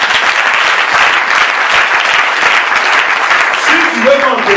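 A church congregation applauds to acclaim the Lord. Loud, dense clapping runs unbroken through the clip, and a voice rises briefly near the end.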